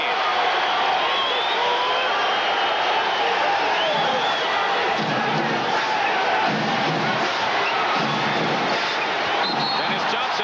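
Roaring arena crowd at a 1988 NBA Eastern Conference Finals Game 4 between the Boston Celtics and Detroit Pistons, a dense, steady wall of cheering and shouting that swells at moments, with faint ball bounces and court noise beneath.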